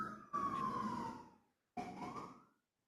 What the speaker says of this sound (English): You have sirens.